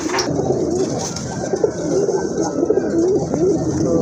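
A pigeon coos in a loud, close series of soft throaty calls, repeated in a rolling rhythm over a low background hum.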